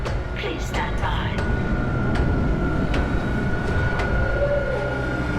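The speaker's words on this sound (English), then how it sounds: "Replacing damaged tram car." A tram car moving through the USG Ishimura in Dead Space (2023): a steady low rumble with a sustained whine, broken by sharp metallic clanks, while voices speak faintly underneath.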